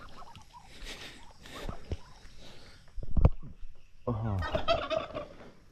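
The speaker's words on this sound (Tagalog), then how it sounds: "Punta natin ito sa ating mga pabo, pato." Turkeys gobble loudly at close range on a small farm, with bursts of throaty fowl calls and ducks and other poultry noises around them.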